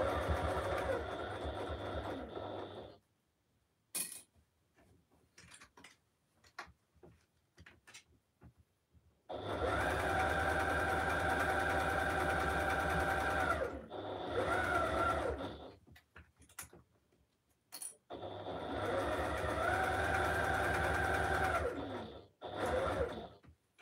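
A sewing machine with a walking foot stitching fabric for a flying geese basket, running in three long steady hums separated by quiet stretches with small handling clicks, no talk.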